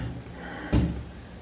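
A heavy steel cell door shifts with one short, dull metallic thud against quiet room tone, fairly close and not very loud.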